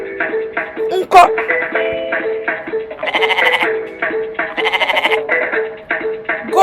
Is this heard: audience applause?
no